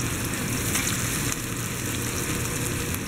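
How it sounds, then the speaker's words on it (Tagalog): Garlic, onion and tomato sautéing with miso in a pan, a continuous even frying sizzle with a low steady hum underneath, no talking. "Sama ko lang siya sa gisa."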